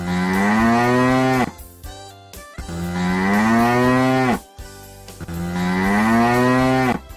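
A cow moos three times in long, loud, drawn-out calls close by, each separated by a brief pause with faint rustling.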